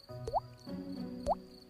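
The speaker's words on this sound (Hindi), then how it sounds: "छत से पानी मसहरी को तर करता हुआ उनकी तौंद पर गिर रहा था।" Water drips from a leaking roof in a new house at night, two distinct plops about a second apart over a soft, steady background hum, close and quiet.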